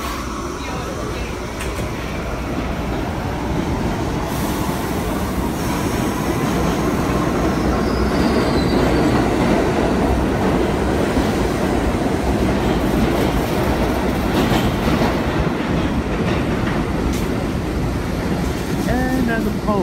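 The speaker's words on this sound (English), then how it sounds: "A Manhattan bound R68A B train heading towards" A Manhattan-bound R68A B subway train rolls past, a loud steady rumble of wheels and rails with clattering over most of the clip, held at close range throughout.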